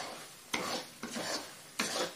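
A spoon stirs a grainy mixture of gram flour, semolina, milk and saffron for modak, giving three distinct scraping strokes, each starting sharply and trailing into a rasping swirl, close and alone.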